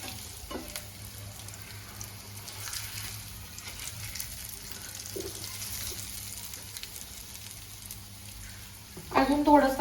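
Surmai fish pieces coated in rava sizzle and fry steadily in shallow oil in a pan after being turned over, a continuous close crackle that swells louder with a burst of sizzling at the end.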